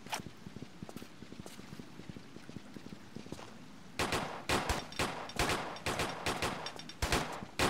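Rapid video-game gunfire from Tomb Raider III, sharp repeated shots in quick bursts, lighter at first and then louder and denser in the second half.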